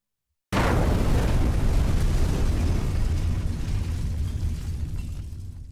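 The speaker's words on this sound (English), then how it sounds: "it was not an explosion from Syria, but from a mine in Dzhishevane in 1973" A 1973 mine explosion at Dzhishevane bursts in abruptly after a moment of silence, then roars as a loud, broad rumble that slowly fades over several seconds, with no voices.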